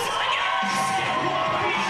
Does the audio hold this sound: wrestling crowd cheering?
yes